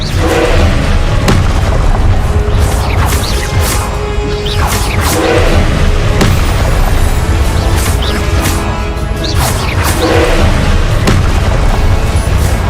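Repeated loud blasting-spell explosions in Hogwarts Legacy, booming every second or two with whooshing bursts over a dense, continuous game soundtrack.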